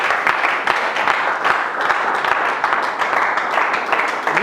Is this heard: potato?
no